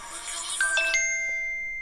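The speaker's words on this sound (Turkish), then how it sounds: "Böyle bir bildirim sesi var" A Samsung Galaxy Watch 4 smartwatch plays a notification alert: a short run of bright, clear electronic chime tones stepping upward, then one sustained ringing tone that slowly fades, heard alone and close.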